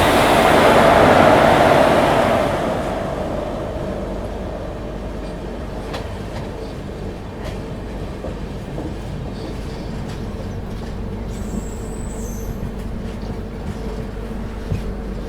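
A train runs past on the outer line at Gonda Junction, loud and close for the first two seconds, then a steady rumble with rail clatter that fades into the distance.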